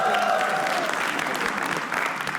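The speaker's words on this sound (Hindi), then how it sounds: "तालियां एक बार" Applause from a comedy roast audience, sustained and dense for the whole stretch, with a few voices and cheers mixed into the clapping.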